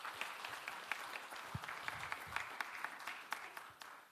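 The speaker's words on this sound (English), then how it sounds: "Can we give them a round of applause" Audience applause after a presentation at an aviation information-management briefing with Hong Kong civil aviation speakers: steady, fairly distant clapping from a modest crowd, sharp individual claps standing out as it carries on throughout.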